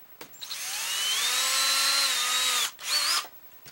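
A cordless drill tapping screw holes runs in one long, steady whining burst, slows briefly, then gives a shorter second spin, close and loud with no talking.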